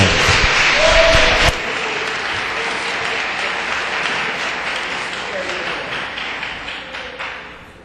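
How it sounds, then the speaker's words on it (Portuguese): A church congregation claps together in broad, dense applause, loud at first and then settling into a steady, slightly quieter wash of clapping that fades toward the end. "Dá uma salva de palmas para Jesus, igreja."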